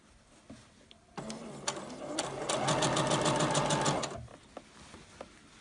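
A sewing machine stitches a sweatshirt seam in a steady rapid whir that rises to full speed for a few seconds, then stops, with light mechanical clicks before and after.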